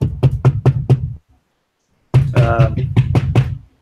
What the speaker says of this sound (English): I'm gonna go knock on Alden's door